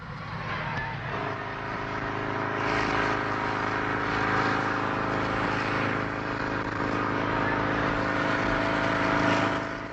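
A homemade hover scooter built of plastic and plywood and driven by a motorcycle engine roars steadily, a loud, sustained buzzing engine note that swells slightly in the middle and again near the end.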